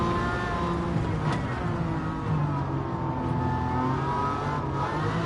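An Aston Martin race car engine drones steadily at high revs in Gran Turismo 7, with a loud continuous tone that holds for several seconds and has small shifts in pitch.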